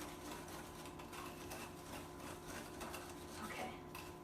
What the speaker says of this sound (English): So I'm just going to whisk this till the vanilla kind of colors this mixture.